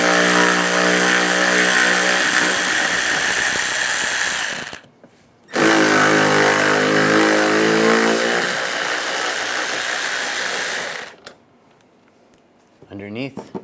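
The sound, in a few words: removing Mercedes headlight bolts with a 10mm socket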